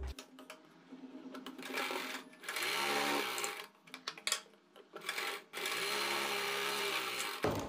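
A sewing machine stitches a blouse seam in repeated runs of steady whirring, separated by short pauses. The machine is close and fairly loud and has no talk over it.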